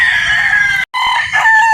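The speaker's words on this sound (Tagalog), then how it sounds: "Napakagwapong manok po yan" A gamefowl rooster on a Batangas game farm crows loudly and close by, a long strained call broken by a brief gap, then trailing off into a rougher second phrase.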